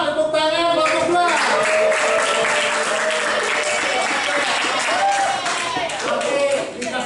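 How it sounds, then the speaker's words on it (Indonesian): A classroom applauding a student group, sustained dense clapping from many hands close by, loud and continuous for several seconds with voices mixed in. "Tepuk tangan kelompok 2."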